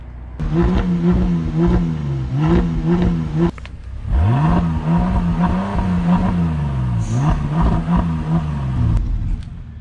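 A 608 hp Bentley Bentayga SUV engine revs loudly nearby in repeated rising and falling blips, a deep throaty roar swelling and dropping several times with a short pause between bursts.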